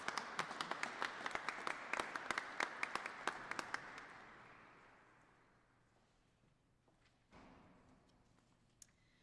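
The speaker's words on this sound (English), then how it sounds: "Can we please give a round of applause for Ms. Shelley Jacques of Okotoks." Audience applause for an award recipient at an International Day of Persons with Disabilities ceremony, moderate clapping with a few sharp individual claps standing out, fading away gradually to near silence, with a final stray clap.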